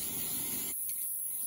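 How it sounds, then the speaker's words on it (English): A short hissing spray from an olive oil spray can bursts for under a second onto a grill before pizza dough goes on, then cuts off abruptly into near silence. "I'm going to spray it with olive oil spray"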